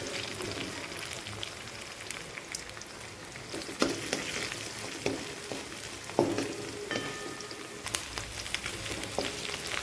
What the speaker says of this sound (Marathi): इथं आता कांदा ब्राऊन होईपर्यंत आपल्याला मस्त असा फ्राय करायचा